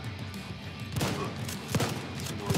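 Shotgun blasts in Tom Clancy's The Division, two or three loud, sharp booms spaced about a second apart over a rumbling combat background.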